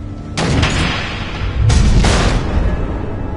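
Missiles detonate in the Batman: Enemy From Within game, two heavy booming blasts about a second apart, loud and close, each followed by a rumbling tail.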